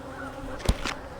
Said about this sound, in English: It's like they just had a few guard bees that are upset.